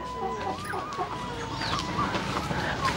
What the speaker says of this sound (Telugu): అంటే కోళ్ళు అవి పెంచుతారండి.